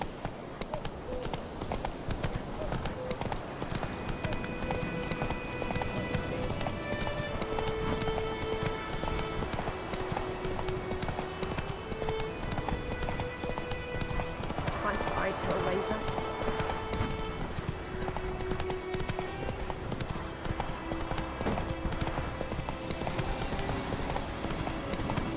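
Roach, the horse in The Witcher 3: Wild Hunt, gallops in steady rhythmic clip-clop hoofbeats throughout, with an occasional whinny over game music and a voice talking.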